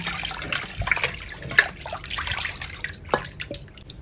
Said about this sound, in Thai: เราก็ล้างน้ำปกติเลยค่ะ